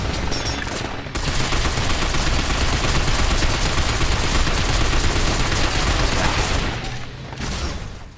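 Dense, loud gunfire rattles almost without pause as robots are shot in the video game Binary Domain, briefly easing at the start and end of the burst.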